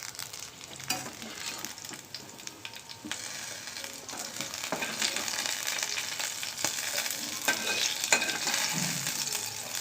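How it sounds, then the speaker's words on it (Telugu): Green chillies frying in a pan with roasted peanuts and sesame seeds, a steady close sizzle under continuous scraping and stirring, with no talking. "ఇప్పుడు మనము ఇందులోకి మన పచ్చిమిర్చిని యాడ్ చేద్దాము"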